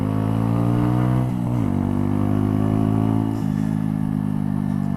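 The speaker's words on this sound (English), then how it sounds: "The second thing is this exhaust. It's just comedy how loud it is." A 2018 Mutt Motorcycles Fat Sabbath 125cc motorcycle idles loud and throaty through a very loud exhaust, with a deep steady rumble and a brief blip of revs partway through.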